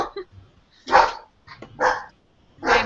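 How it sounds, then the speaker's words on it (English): A dog barks three times in short, sharp bursts at close range indoors, with brief yips and a whimper between them and no talk. "hey, stop barking! You're ruining this moment."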